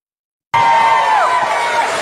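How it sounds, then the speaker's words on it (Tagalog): Crowd at a political rally shouting and cheering, a loud sustained roar that bursts in suddenly after a moment of silence and holds steady, with one raised voice standing out above it. "Sigawan yung mga to."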